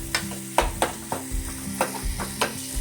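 Dal tipped into a hot pan and stirred, with sharp spatula knocks and scrapes roughly every half second over a steady sizzle close by, and no voices.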